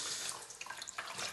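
Tap water runs steadily, rinsing a film developing tank after developing black-and-white negatives, a continuous close splashing hiss.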